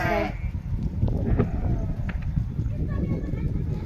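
Goats bleat a few times close by while a person talks over them in an outdoor setting.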